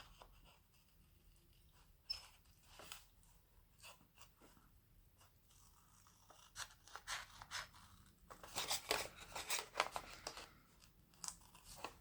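Scissors snip around a small vintage-style paper ephemera piece in a craft project, giving soft, close, irregular cuts and crinkles that grow busier toward the end, with no talking.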